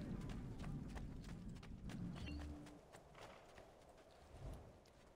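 Horse hooves clip-clop in the video game Assassin's Creed 2, a quick run of close, even hoofbeats that fades to quieter, sparser steps over a low game background.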